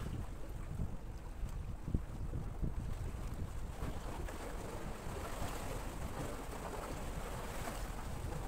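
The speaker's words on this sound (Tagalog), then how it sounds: "May hangin guys." Steady wind roaring and buffeting a microphone outdoors during overnight fishing, a continuous broadband rush with water sloshing underneath, loud and unbroken throughout.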